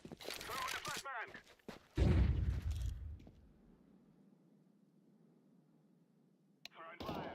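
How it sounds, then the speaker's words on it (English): A flashbang grenade is thrown and detonates in a video game: a few sharp clicks and rustles, then a loud booming burst that rings out into a long fading hiss, with another brief crack at the end. "Throwing a flashbang."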